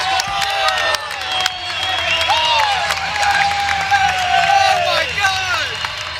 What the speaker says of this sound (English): Yeah, this place is on their feet, cheering nice and loud.